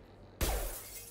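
A single loud burst of glass shattering at 0.4 s in Mass Effect 2 during a heist on Bekenstein, with a sharp crash tailing into scattered tinkling debris.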